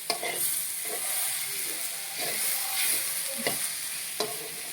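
Sambar powder and spices for fish sambar sizzle and fry in a pan, with a steady crackle broken by repeated scraping stirs, close and alone without talk.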